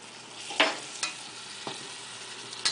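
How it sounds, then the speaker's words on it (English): Tomato sauce cooking in a pan is stirred with a few distinct scrapes and knocks over a steady low sizzle, close and fairly loud. "we're just going to give this a couple stirs as it cooks through"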